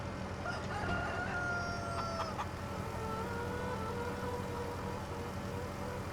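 Faint chickens cluck and crow in the distance in Farming Simulator 25 beneath a steady rumbling mechanical hum that continues throughout.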